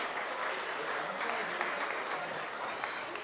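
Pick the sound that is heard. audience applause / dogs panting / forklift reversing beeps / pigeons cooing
audience applause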